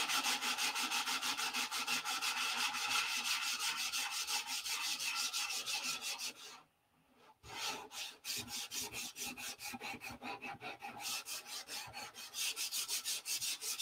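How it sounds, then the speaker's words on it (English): Steady rhythmic rasping of sandpaper on a model airplane wing, close and continuous, with one brief pause before the back-and-forth strokes resume. "Because I'm sanding."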